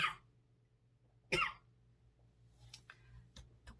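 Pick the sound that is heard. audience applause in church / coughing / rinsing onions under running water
coughing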